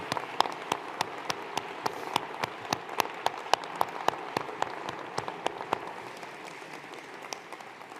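Steady applause at a university graduation ceremony honouring graduates' families and supporters, a crowd clapping evenly for several seconds before it thins out and fades.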